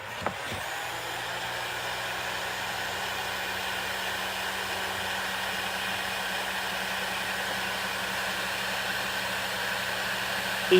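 A heat gun blows a steady, loud, whooshing stream of hot air to shrink marine-grade heat-shrink tubing, running continuously and close by with no talk over it.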